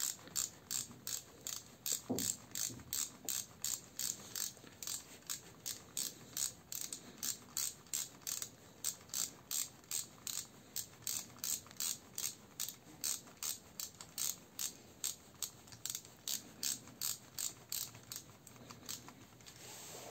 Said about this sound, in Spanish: Apretamos muy bien este último tornillo en dirección a las manecillas del reloj